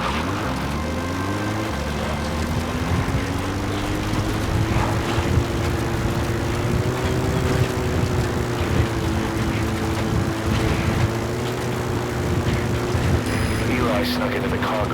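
A helicopter in the video game Metal Gear Solid 5, a steady loud droning engine hum with a slowly shifting pitch lasting the whole stretch, with a voice speaking over it.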